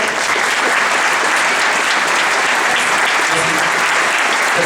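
Warm, dense applause from a studio audience at a French student presentation event, a loud continuous wash of clapping without pause.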